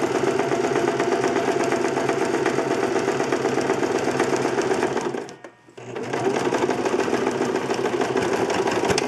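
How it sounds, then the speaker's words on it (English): Sewing machine top stitching along a lined zipper bag, running loud and steady for several seconds, stopping for a brief pause, then resuming in a continuous run. "I'm just gonna go ahead and do a top stitch forwards, backwards, forwards."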